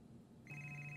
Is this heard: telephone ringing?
yes